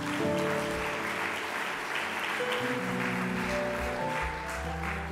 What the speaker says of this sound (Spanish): Un aplauso si quiere al Señor.